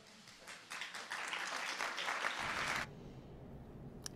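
Applause in the White House East Room after a presidential speech: a crowd's dense clapping swells for about two seconds, then cuts off abruptly, leaving faint room noise and one brief click at the end.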